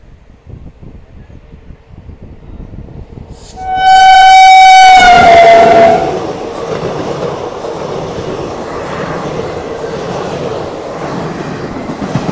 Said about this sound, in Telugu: ట్రైన్ క్రాసింగ్ అయితే అవుతుంది